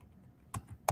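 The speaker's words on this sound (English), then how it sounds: "we're going to type in" A few isolated keystrokes on a computer keyboard, two crisp close clicks about a third of a second apart over a quiet room background, with no voices.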